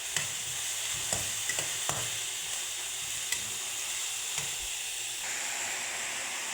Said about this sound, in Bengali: এখন আমি শাকটা ভাজা ভাজা করবো